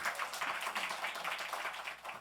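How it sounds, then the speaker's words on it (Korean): A church congregation applauds to welcome a pastor, a dense, fairly faint patter of many hands clapping steadily for a couple of seconds. "우리 박수로 환영하겠습니다"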